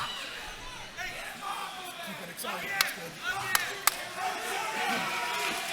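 Crowd at a combat club fight roars and cheers as the fighters stand up, a steady loud murmur with sharp bursts and whoops, under excited commentary.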